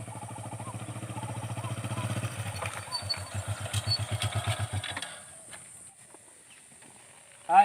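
A motorcycle engine runs close by with a rapid, even throb for about five seconds, then drops away quickly to a faint hum before a sudden knock at the end.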